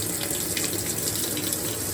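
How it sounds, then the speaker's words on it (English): Steady broadband rush of water pouring out of a GE top-load washing machine once a plug is pulled, a continuous close gush with no talk over it. "When I removed that plug I had sitting there, the water started coming out."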